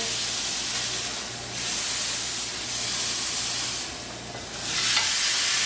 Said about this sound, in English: Picking it up again, searing it here, right there.